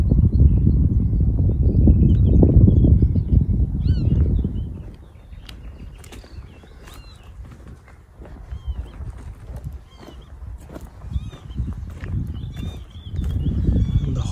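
Horses at a rural horse base beside a house near a Czech village, heard outdoors as soft hoof clip-clop and low rumbling movement, louder at the start and end with quieter stretches and faint birds between.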